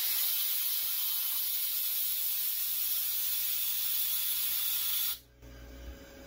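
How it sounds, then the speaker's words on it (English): Compressed air hisses steadily from a compressor tank drain, a broad continuous rush that holds for about five seconds before stopping abruptly, leaving a low hum. "Let's drain some air out so the compressor will come on."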